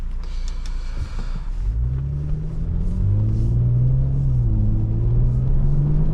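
Engine of a 2021 Audi S5 3.0T Cabriolet held at steady revs on minimal throttle, a loud continuous low rumble with a sustained engine drone that rises slightly.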